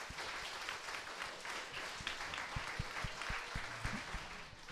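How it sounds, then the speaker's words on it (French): An indoor audience in Orléans applauds a gymnast with sustained clapping, a dense, even patter with a few sharper individual claps standing out near the end, moderately loud and with no voices. "Merci d'accueillir, d'applaudir la gymnaste Eva Serrano."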